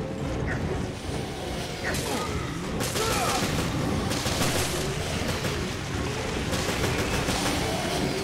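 Gunfire in the survival horror game Resident Evil: Revelations pops in scattered reports over a dense clattering, mechanical background, with a few heavier booming hits.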